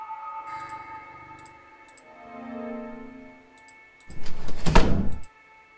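A door opens in the horror video game Corrosion: Cold Winter Waiting, a short heavy creak and thud rising over a quiet ticking, droning ambient background, with no talk.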